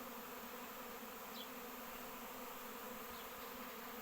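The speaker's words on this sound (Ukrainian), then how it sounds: "Прямо вулик до мене рій не прилітав. Ну чимало бджілок." A swarm of honey bees arriving at a hive makes a faint, continuous, dense buzzing hum that stays steady throughout, with no speech.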